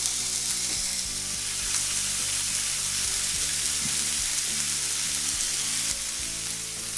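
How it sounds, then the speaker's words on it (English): Quartered beef chuck roast browning in hot oil in a pan, a loud, close, continuous crackling sizzle with occasional spatters and a few soft bumps as the pieces are turned. "I want to brown our beef chuck roast quarters. Just brown them on all sides."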